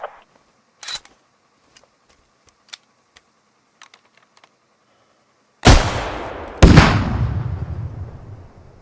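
In the Squad video game, a few faint clicks and handling ticks give way to two loud, close, booming rocket launcher blasts about a second apart, each trailing off in a long rumbling echo.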